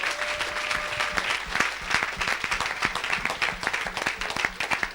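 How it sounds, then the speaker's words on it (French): A church congregation claps in acclaim for Jesus during an evangelist's sermon, a dense, lively round of applause with sharp individual claps standing out and a brief tone early on. "donne une acclamation à Jésus"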